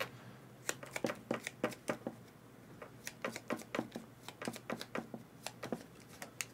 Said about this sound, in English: So now these guys, I got to shuffle every day.